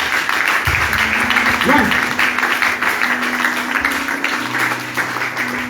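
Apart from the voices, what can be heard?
congregation applauding to acclaim Jesus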